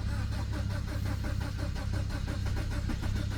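A BMW engine misfiring on start-up, running rough with an uneven, pulsing chug close by, steady and unbroken across the short stretch.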